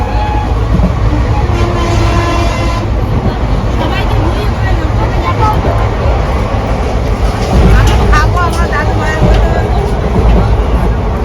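A moving passenger train heard from inside the carriage: constant loud low rumble and rattling wheels under a hubbub of passengers talking in the background.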